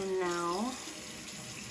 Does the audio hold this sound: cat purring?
no